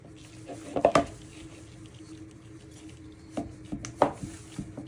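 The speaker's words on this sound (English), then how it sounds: "you're going to cream them together with your wooden spoon" Wooden spoon creaming icing sugar and butter in a bowl for an Oreo chocolate cake, heard as a few irregular scraping knocks and clatters against the bowl, close and moderately loud, separated by quieter gaps.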